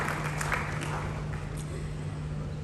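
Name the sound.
audience applause for award winners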